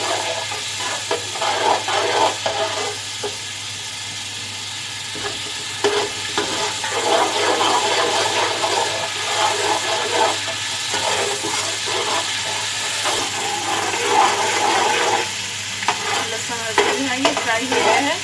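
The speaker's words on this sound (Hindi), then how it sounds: "लहसुन अदरक को इतना भूनेंगे कि अच्छी तरह से फ्राई हो जाए" Garlic and ginger frying in hot oil in a pot for spicy biryani, a loud, steady sizzle that runs unbroken throughout, with occasional scraping of a spoon against the pot.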